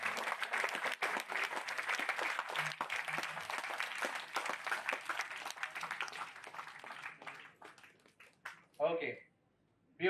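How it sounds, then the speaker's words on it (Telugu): An audience claps for a classroom activity, a dense run of hand claps that fades and thins toward the end. A voice speaks briefly near the close. "క్లాప్స్ కొట్టొచ్చు మీ వాడికి, కమ్ ఆన్ గట్టిగా కొట్టండి"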